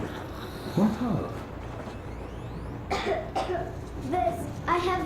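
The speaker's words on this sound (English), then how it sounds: "This, I have this cough." A character in the game Metro Exodus coughs, a brief harsh burst of coughing near the start followed by quieter game ambience and faint voices.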